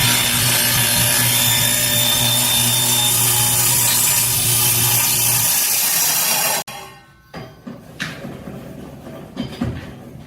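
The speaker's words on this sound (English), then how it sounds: "Turn my table saw on and then raise my blade through the bottom of this." Table saw running as its blade is raised up through the bottom of a wooden crosscut sled, a loud steady whine and grinding cut into wood for several seconds, then the motor shuts off and the blade spins down amid small knocks.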